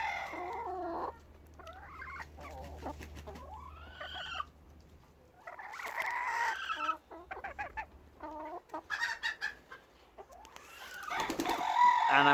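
Hens clucking and squawking close by on a small farm, with a few irregular bursts of calls and brief pauses between, building to a louder, busier flurry of clucks at the end.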